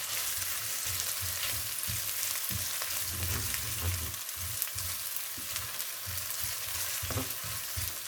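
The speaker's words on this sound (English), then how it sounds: "You stir for about 2 minutes." Meat pie filling fries and is stirred in a pan, with a steady soft sizzle broken by repeated scraping strokes of the spoon, close and moderately quiet, no voices.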